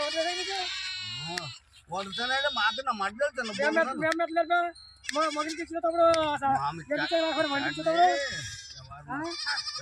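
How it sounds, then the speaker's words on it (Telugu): Young lambs bleat repeatedly at close range, high wavering cries overlapping and following one another in quick succession with brief pauses, in an outdoor setting where sheep are kept. "చూడండి ఫ్రెండ్స్, అక్కడ చిన్న గొర్రె పిల్లలు."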